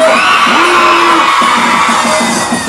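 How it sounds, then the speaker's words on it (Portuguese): A crowd at a live show in Várzea, Recife yells and whoops on cue, loud massed shouting over a band with a sustained high whistle-like tone. "quem gosta do choro, dá um grito."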